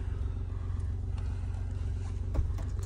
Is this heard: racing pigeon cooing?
no